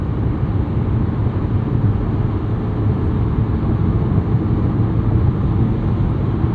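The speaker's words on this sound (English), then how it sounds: "a lot of that noise that you get in this thing is from that roof rack" Steady, loud, broadband roar fills the cabin of a 2023 Lamborghini Huracán Sterrato cruising in 7th gear on the highway, with wind rush from its roof rack blending into road and engine drone, continuous and unbroken.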